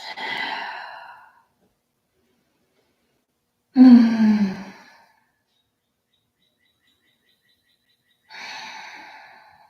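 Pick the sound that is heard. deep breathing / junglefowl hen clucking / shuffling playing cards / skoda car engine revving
deep breathing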